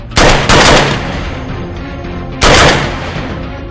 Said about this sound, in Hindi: जिस तेज गति से इस कार्बाइन में गोलियां निकल रही है